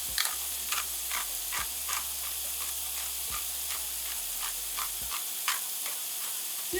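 Tater tot hotdish ingredients browning and searing in a pan, a steady close sizzle with intermittent scraping stirs and a few soft ticks, no talking.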